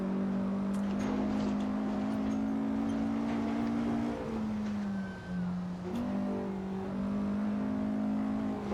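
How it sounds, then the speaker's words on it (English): Steady engine drone of a Porsche 718 RS 60 Spyder in Assetto Corsa on the Boavista 1958 circuit, holding a constant tone with small pitch shifts as it changes speed, moderately loud and with no talk. "The engine sounds are a little blah"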